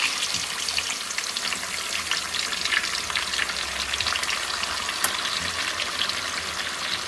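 Chicken leg pieces fry on low heat in a pan, a steady close sizzle with faint stirring scrapes running unbroken for several seconds, with no voices.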